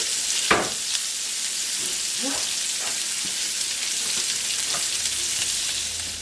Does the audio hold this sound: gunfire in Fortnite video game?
no